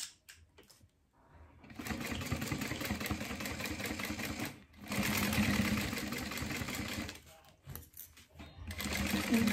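Stitching a half-inch seam to join a spine to a gusset on a small organizer, a sewing machine runs in two long loud bursts separated by a short pause, then starts again, close.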